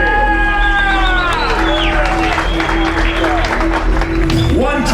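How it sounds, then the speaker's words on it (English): Crowd applause and cheering greet a boxer, a challenger from Montego Bay, Jamaica, as he enters the stage at a boxing event, a steady loud roar of clapping with whoops throughout, while an announcer's amplified voice carries over it. "ladies and gentlemen, round of applause for Nicholas Walters on the stage"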